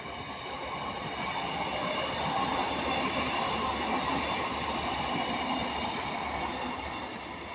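A four-carriage Class 156 diesel train passes close by in one long, steady, loud rumble, with wheels rolling and clattering over the rails and a faint squeal, and no gaps.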